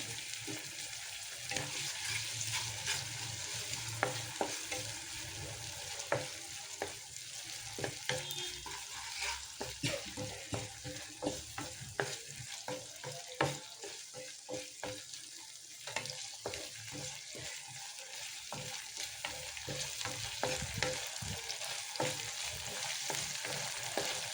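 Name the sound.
chicken pan roast frying with soy and tomato sauce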